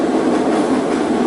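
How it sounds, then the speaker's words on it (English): A train rolls past close by, a loud, continuous rumble of rail cars with a rhythmic clatter of wheels on track. "that train's taking a long time to go through here"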